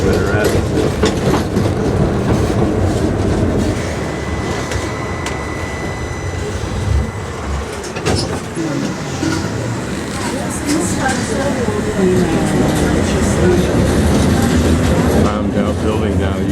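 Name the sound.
riding a tram in Sarajevo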